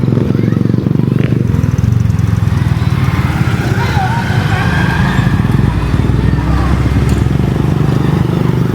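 Motorcycle engine running steadily and fairly loud through the whole stretch in Balingasag, Misamis Oriental, Philippines, with people talking over it.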